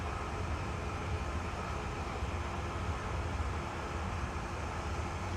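A tilting train runs steadily in Train Simulator 2021, its low, continuous rumble holding at an even level throughout with no pauses or speech.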